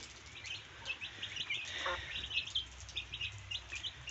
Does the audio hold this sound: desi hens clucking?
yes